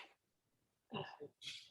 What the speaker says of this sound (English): No, I sneezed, sorry.